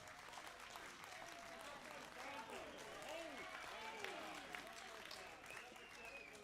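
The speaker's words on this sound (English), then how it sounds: "They deserve a huge round of applause from all of us." At a provincial state address in a legislative chamber, a large audience gives quiet, distant, sustained clapping. Overlapping voices can be heard beneath it.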